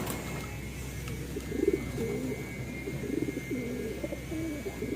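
Soft, low pigeon coos repeat faintly over a steady background hum outdoors, with several birds circling overhead in flight training in Apalit.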